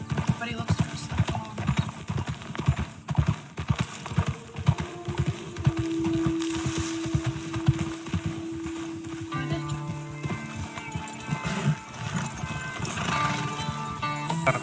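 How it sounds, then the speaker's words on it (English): Horse hooves clip-clop in a video game, a steady rhythmic trot of hoofbeats with occasional neighing, heard under background game music while people talk over it. "My horse is tired."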